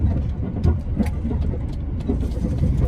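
A backhoe excavator's diesel engine runs steadily on a sandy dirt work site, a loud, close, continuous low rumble with slight fluctuations and no pauses.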